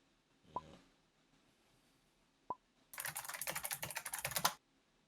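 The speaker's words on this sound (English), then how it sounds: "Him with the loudest keyboard in the history of keyboards" Loud computer keyboard being typed on rapidly for about two seconds, a dense clatter of keystrokes close to the microphone, preceded by a couple of isolated knocks, with no talking.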